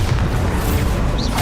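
The Bombarda blasting spell goes off in Hogwarts Legacy, a loud, close, booming explosion with a dense low rumble filling the short moment and a faint rising whistle near the end.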